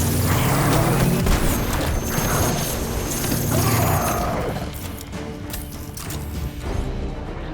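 Grenade blasts in the video game Destiny 2: dense, continuous booming and crashing combat noise, loud and sustained with layered mechanical clatter, no talk over it.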